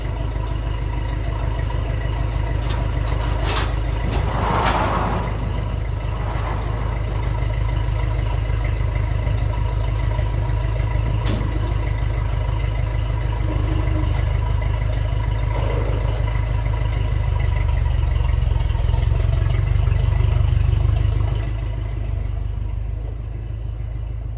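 The diesel engine of a 1954 Ferguson TEF 20 tractor idles with a steady low rumble throughout, its pitch shifting slightly near the end, with a few faint clanks.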